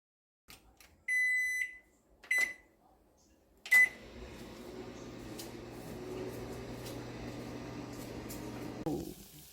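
An oven baking croissants starts with a few sharp electronic beeps, followed by a thump and then a low, steady running hum that lasts to the end, with faint clicks now and then.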